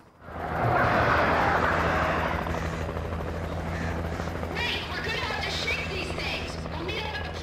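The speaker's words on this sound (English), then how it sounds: "Follow the helicopter." A helicopter in the video game Alan Wake makes a loud, continuous rotor roar and whir. The sound swells early, then holds steady, with faint game sounds layered in later.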